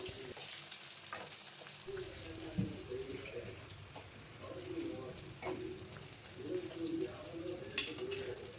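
Chopped big onions and small country onions frying in hot oil with dried chillies in a home kitchen, a steady close sizzle broken by stirring scrapes and light clinks.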